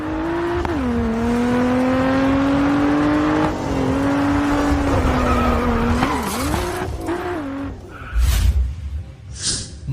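Race car engine from the mobile racing game Grid Autosport, with a steady rising and falling engine drone, then sharp tire squeals and skids near the end, loud and with no talking over it.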